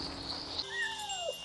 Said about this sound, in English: so each area has their own cats as well